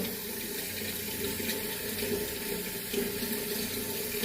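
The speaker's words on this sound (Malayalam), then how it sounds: "നമ്മൾ ചോറിൽ വെള്ളം വെക്കാൻ പോവാണ്" Water pours steadily from a tap into a pot for cooking rice, a constant hissing splash that stays even throughout, close and moderately loud.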